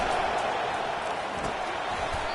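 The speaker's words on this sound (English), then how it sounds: "Listen to this crowd just shaking the girders of this place" Stadium crowd roar in College Football 25, a steady dense wash of cheering noise holding at constant level throughout with no distinct peaks.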